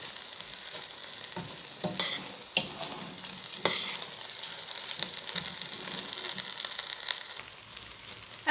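Rice stirred with curry powder and a big spoonful of salt in a hot pan for chicken biryani, a continuous dry scraping and rattling with a light sizzle, close and steady with occasional sharper knocks.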